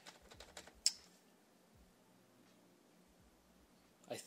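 Typing on a Lenovo ThinkPlus Preferred Pro keyboard, a quick run of crisp key clicks at the start, then quieter scattered taps and a final cluster of presses, close and alone with no talking.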